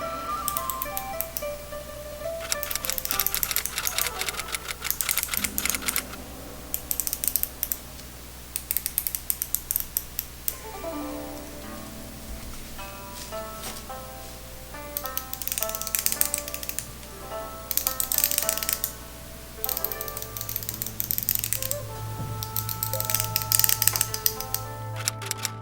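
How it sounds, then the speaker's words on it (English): A Seiko dive watch bezel, compared against a Seconda, is turned in quick runs of small ratcheting clicks, several bursts separated by short pauses, close and crisp with no talking. "Let's compare the bezel action."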